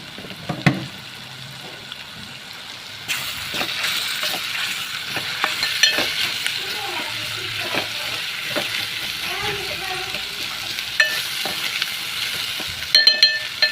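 Onions frying in a pan as raw prawns are added for a prawn curry, a steady sizzle with stirring scrapes and occasional clinks, moderately close, growing busier partway through.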